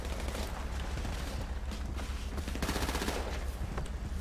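Video game gunfire crackles in quick bursts of automatic shots over steady background noise for the whole stretch, with no clear talking.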